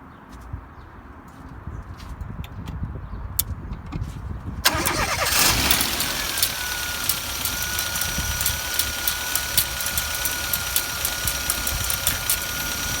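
A car engine with its oil filler cap removed cranks briefly and catches, then settles into a steady, close idle with a rhythmic ticking pulse running through it, after a quieter stretch of faint background noise.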